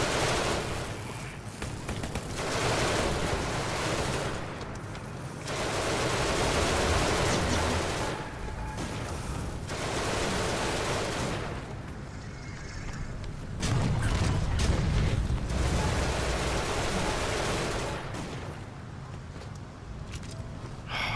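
Turret fire and explosions rage in the PS4 game Genesis Alpha One: dense, loud bursts of gunfire and blasts roar almost continuously, swelling and easing in waves with no pause.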